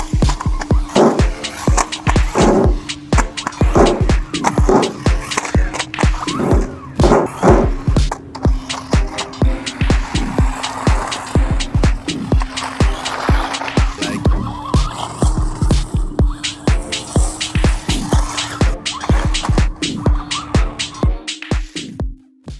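A toy RC truck runs outdoors in a park area with ramps set out, its small electric motor whining loudly and steadily throughout, with repeated sharp clattering bursts as it bounces over the ground and jumps.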